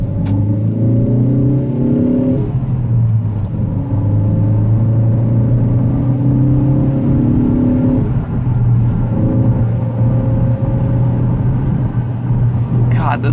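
A performance ST car accelerates hard up close, the engine note climbing steadily through the gears with brief dips at each shift and a constant road rumble underneath.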